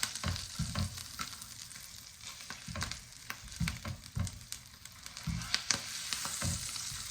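Wood pigeon breast sizzling and frying in garlic butter in a pan, with repeated bursts of spattering as the pieces are stirred and moved around, fairly quiet and close, no talking.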